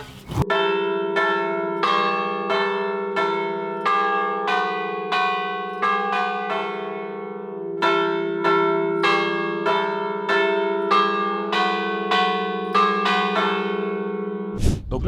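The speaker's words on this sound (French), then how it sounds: "Est-ce que tu pourrais nous faire une petite démo ? Ok, pas de soucis, j'installe les cloches" Church bells at the top of the Church of Saint-Jean-Baptiste ring in a steady, repeated pattern of strikes, each note ringing on and overlapping the next, loud and close.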